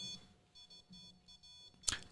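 A ghost hunting temperature sensor alarm gives quiet, evenly spaced electronic beeps in a repeating pattern, ending with a brief louder click or burst near the close.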